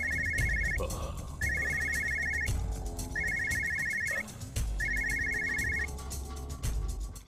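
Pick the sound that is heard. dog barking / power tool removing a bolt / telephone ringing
telephone ringing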